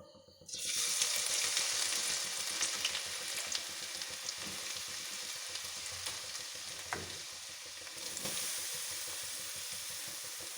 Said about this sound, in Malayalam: പാവയ്ക്ക എണ്ണയ്ക്കകത്ത് കിടന്ന് തിളച്ചുകൊണ്ടിരിക്കുകയാണ്